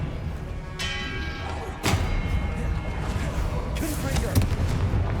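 Spell-casting in Hogwarts Legacy, with an Expelliarmus disarming charm landing as a sharp thud-like impact among a few other bursts and crackles, mixed with game effects and a voice calling out spells.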